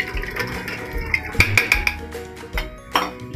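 Mashed chana dal is being stirred into a pan of cooked meat masala for dal gosht, the spoon knocking and scraping against the pan in a few distinct clinks amid soft, thick stirring noise, with no talking.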